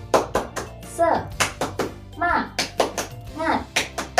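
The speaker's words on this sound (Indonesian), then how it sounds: "kita lakukan tepuk semangat dulu" Classroom children perform a rhythmic clapping chant, loud close claps in short patterned bursts alternating with shouted chanted syllables from the group.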